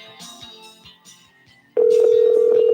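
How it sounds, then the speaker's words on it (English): A telephone dials with a few short beeping tones, followed by a loud, steady ringback tone that holds to the end. "I hope they pick up the phone"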